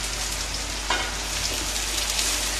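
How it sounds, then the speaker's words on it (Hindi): Leftover rice tipped into a pan of cooked tomatoes sizzles in a steady, dense hiss of frying, with faint scraping and stirring over the constant crackle; no voices. "फटाफट से इसमें हम तुरंत चावल को ऐड करने जा रहे हैं"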